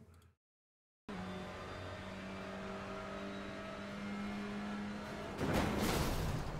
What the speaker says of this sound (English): If we listen to the engine note,